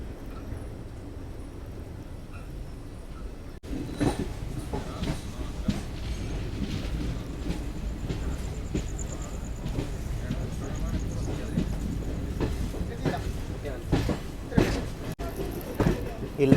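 The Kannur–Bengaluru express via Mangaluru rumbles along steadily near Subrahmanya Road with a rhythmic clickety-clack of wheels on track, heard from inside, a continuous loud rattle throughout.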